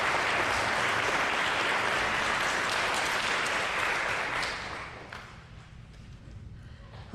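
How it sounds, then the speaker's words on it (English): Audience at a spring school band concert at a Lutheran school claps in a full, dense burst that holds for about five seconds, then thins to a few scattered claps and room murmur. "Let's give them all another round of applause."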